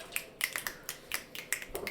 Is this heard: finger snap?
yes